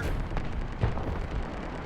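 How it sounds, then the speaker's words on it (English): Explosion of a bullet after it exits a tank in the video game War Thunder, a single low boom near the middle set against steady rumbling battle noise, with no talk. "the bullet hit the ground, made an explosion after it exited the tank"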